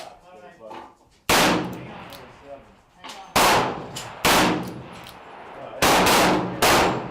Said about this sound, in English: That was 6 shots.